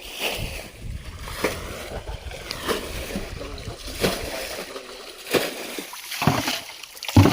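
Repeated bucket scoops and splashes of water bailed from a stream pool while fishing, close and irregular, with sloshing between sharper splashes and outdoor background noise throughout.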